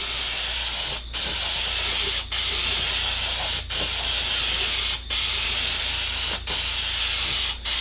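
Spray paint hisses onto a honed RB25DET NEO engine block in long, even bursts, six loud continuous passes separated by short breaks, close up.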